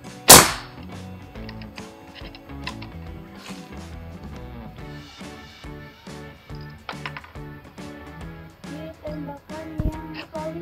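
A Ruger AWM Turbo PCP air rifle fires one sharp, loud shot at the very start, followed by background music for the rest of the clip.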